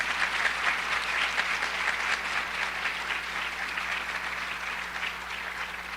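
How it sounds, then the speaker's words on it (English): Steady applause from an audience at a high school National Honor Society induction ceremony, honoring the teachers, a dense even patter of many hands clapping throughout with no voices. "I'd like to give them a round of applause for the leadership they provide"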